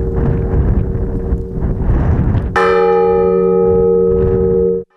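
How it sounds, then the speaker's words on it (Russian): A large church bell in Koygorodok, Russia, rings from a temporary bell tower with a long, sustained metallic tone over steady outdoor rumble, the strike sharp and loud, its resonance ringing out before cutting off. "Главный колокол уже установили."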